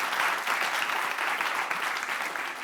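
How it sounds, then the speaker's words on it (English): Audience at a WASTED relaunch event in Dublin applauds a speaker after his talk, a steady dense clapping from a sizeable crowd, loud and sustained throughout with no voices on top. "maybe we should give a big round of applause for Jeremy actually in his beautiful talk"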